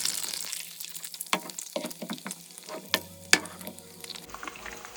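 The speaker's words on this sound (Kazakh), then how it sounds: "Енді үстіне біз белогымызды құямыз." Egg whites poured into a hot oiled frying pan crackle and sizzle, with sharp spitting pops scattered over a steady frying hiss, close and fairly loud with no talk.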